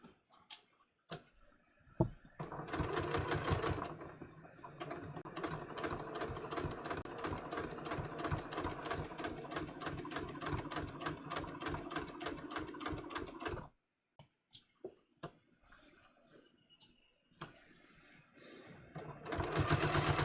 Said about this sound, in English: I'm stitching just inside the stay stitching